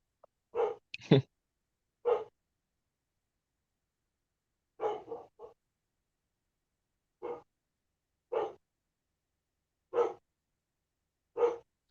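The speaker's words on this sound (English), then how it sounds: "My dog's going crazy." A dog barks excitedly, giving about ten short, sharp barks in irregular bursts with silent gaps between them, close and fairly loud.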